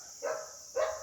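A neighbour's border collie type dog barks twice through a wall, muffled and faint, with two short yapping barks about half a second apart over a steady background hum.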